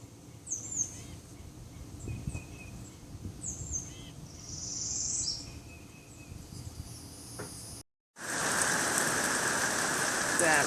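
A light sprinkle of rain falls steadily on a pineapple farm, a soft, even patter with birds calling faintly in the background before a brief cut and a louder, denser wash of rain.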